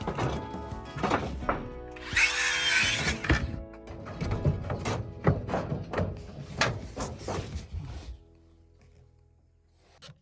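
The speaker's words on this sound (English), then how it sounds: "We'll aim for the corner column and secure it with screws at an angle." Screws driven at an angle into the corner column of a repaired DIY balcony deck substructure, heard as a run of close, loud whirring drill bursts and knocks on wood that stop near the end.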